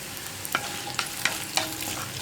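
Dried red chillies, three of them, hit hot oil in a pan for Kerala-style koottucurry, giving a steady sizzle broken by four or five sharp stirring scrapes and pops, close and alone.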